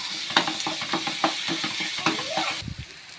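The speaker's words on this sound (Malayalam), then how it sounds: "ഇനി നമുക്ക് നന്നായിട്ടൊന്ന് ഇളക്കി കൊടുക്കാം." Beef roast with tomatoes being stirred in a frying pan, rhythmic scraping strokes of a spatula over a steady sizzle, ending with a dull knock.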